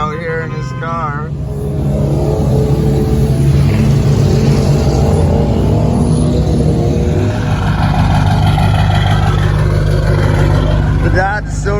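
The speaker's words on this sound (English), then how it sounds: "The Dodge is still running." A Dodge car engine runs with a loud, continuous low rumble and occasional revving swells, close by and sustained, while people talk over it.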